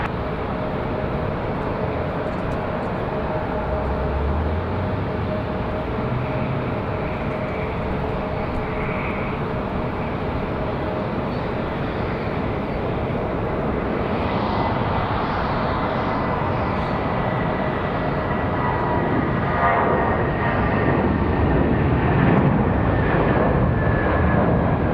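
Aircraft on approach to runway 23 left at Raleigh-Durham International Airport, a loud continuous engine roar that stays steady and swells slightly toward the end, with no voices.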